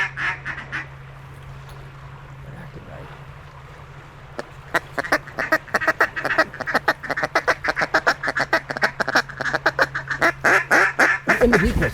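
Ducks quack in a rapid, loud run of calls during a duck hunt, starting sparse and building to a dense, near chorus over a steady low hum.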